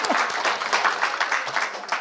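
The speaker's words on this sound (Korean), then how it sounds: "다시 한번 큰 박수 좀 부탁합니다." An indoor audience gives a short burst of applause at a Korean seminar, moderately loud claps filling two seconds with a voice speaking over them.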